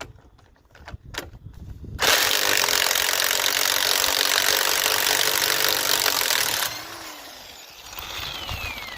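A socket being wiggled on a rusty, stuck wheel lug nut during a winter tire changeover gives a loud, steady grinding, rasping burst for about four and a half seconds after quiet clatter, then fades to lower scraping.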